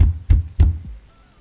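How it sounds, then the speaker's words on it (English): Fist pounding on a laundry room door: three heavy, close thuds in quick succession, followed by a fainter fourth knock and quiet. "his fist came pounding on the laundry room door so hard she felt her legs jolt"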